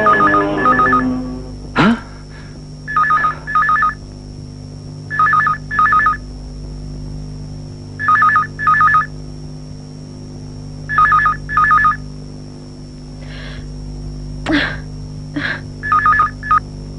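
A phone rings unanswered in a Nepali movie scene, its electronic double-pulse ring repeating at steady intervals, loud and close over a low background hum, with a brief voice at the start.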